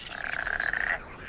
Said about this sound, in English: Frogs are breeding too, and they join in the chorus.